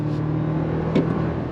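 A 2024 Toyota Tacoma Limited i-FORCE MAX hybrid pickup accelerating, heard from inside as a steady low engine drone with a faint whine, close and continuous over a short stretch, with no speech.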